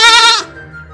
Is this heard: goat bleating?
yes